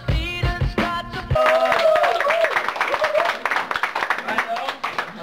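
An audience at a Filipino rap battle claps in a rough burst under a speaking voice, after a brief stretch of talk alone; the crowd noise stays close and busy to the end.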